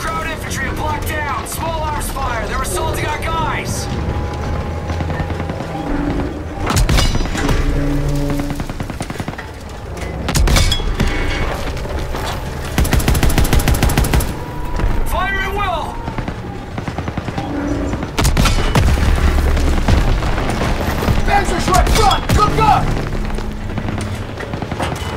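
Explosions in Call of Duty: WWII boom repeatedly as a building is destroyed, among bursts of rapid gunfire and crumbling debris, loud and chaotic, with a voice talking over the din.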